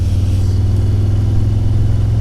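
A Harley-Davidson Low Rider S with a Jekyll & Hyde exhaust runs with a deep, loud, steady engine rumble and a strong low-frequency throb, close up and continuous throughout.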